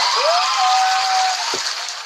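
Crowd cheers and applause play over a live hair-braiding tutorial, a dense, fairly loud burst of clapping with a rising whistle-like tone, holding steady for about two seconds.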